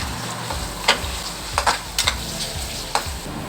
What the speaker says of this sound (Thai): เจียวกระเทียม หอมหอมหมูสับ หมูสับ ผัดเลย ผัดเลยผัดเลย